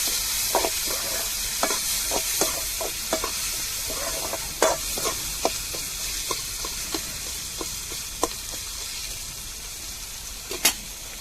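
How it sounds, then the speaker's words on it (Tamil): Chopped tomatoes sauté in a pan, giving a steady frying sizzle with repeated light scrapes and clicks as a utensil stirs them throughout, with no voices. "இப்போ நான் கட் பண்ண தக்காளியவும் சேர்த்துக்கிடுவோம் தக்காளியும் நல்லா வதங்கணுங்க வதங்கட்டும்"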